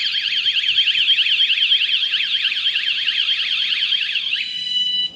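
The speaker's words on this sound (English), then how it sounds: "we've instigated the 30-second alarm blast" A VanGuardian van security alarm, set off by a tap on the van's side, wails loudly with a rapid warbling electronic tone, continuous for several seconds before switching to a steadier beep and stopping.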